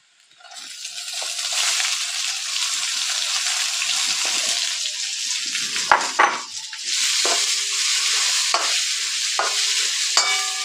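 Chopped onion hits hot oil for a dhaba-style dal tadka, bursting into a loud, dense sizzle that stays steady while a spoon scrapes and stirs the pan in several short strokes, close up and without talk.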